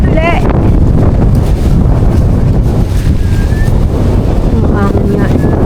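Strong wind roars across the microphone in an outdoor ginger harvesting field, a loud, constant, dense rumble with faint voices buried underneath.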